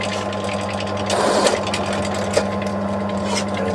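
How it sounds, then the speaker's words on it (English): A deburring tool scrapes the edges of reamed 6mm holes on the underside of a metal block, giving short close scratchy rasps over a steady machine hum. "on the underside we'll just deburr the holes."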